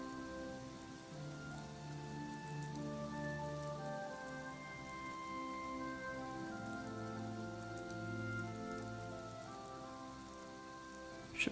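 Rain in a video game, a soft steady patter of falling drops under a gentle layered musical score, continuous and fairly quiet throughout.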